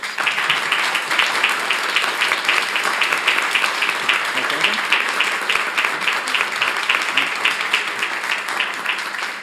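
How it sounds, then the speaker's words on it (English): Sustained, even applause from an audience at a school board meeting honoring students and coaches; many hands clap steadily throughout, loud and continuous in a large room. "Please join me in giving these students and coaches a big round of applause."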